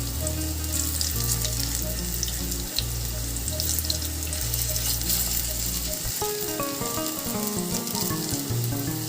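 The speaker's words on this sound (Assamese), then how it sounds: "অলপ ৰঙচুৱা হোৱাকৈ ভাজি ল'ম।" Raw banana kofta balls frying in a wok, a loud continuous sizzle and bubbling close by, with a low hum in the background and occasional stirring sounds, no talking.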